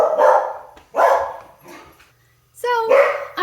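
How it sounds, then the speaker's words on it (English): A dog barks close by in a kitchen, three loud sharp barks in a row followed by a higher-pitched yelping whine, with no talking. "so I'm back and she's still barking."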